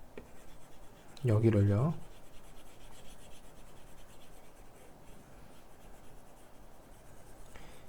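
Marker or chalk scratches and rubs faintly on a board during a geometry lesson, a soft continuous scraping after a brief spoken word from the teacher.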